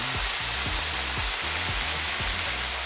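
Pork belly sears in a hot pan for Korean BBQ, a dense steady sizzle with faint rhythmic low thumps underneath, close and continuous.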